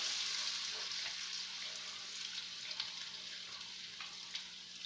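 Food sizzles in hot oil with a steady, close hiss of frying, dotted with faint pops and crackles throughout.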